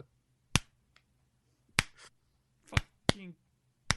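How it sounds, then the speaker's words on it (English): Single-handed claps or snaps, a handful of sharp isolated cracks spaced irregularly over near silence, with a brief voiced sound between them. "The sound of a one-handed clapping."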